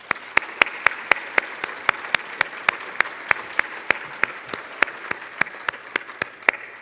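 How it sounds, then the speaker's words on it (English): Conference attendees at an opening plenary applaud the event team; one sharp, close clap repeats in a steady rhythm about three times a second over a softer background of crowd applause. "So I'd like for everybody to give this team a round of applause."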